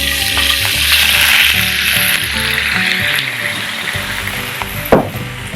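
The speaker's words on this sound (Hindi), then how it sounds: "अब हम वही पैन लेंगे जिसमें हमने फ्राई किया था, उसमें हाफ कप स्प्राइट डालेंगे।" Half a cup of Sprite hits a hot frying pan previously used for frying chicken, giving a loud, steady sizzle with crackling and a clatter of stirring or a utensil throughout, plus a sharp knock near the end.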